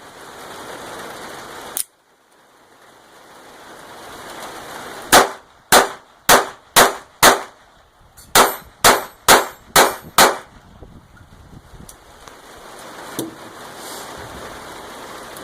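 A Ruger SR22 .22 pistol fires one shot, then two rapid strings of about five sharp cracks each, followed by a lone fainter shot, loud and close against outdoor background noise.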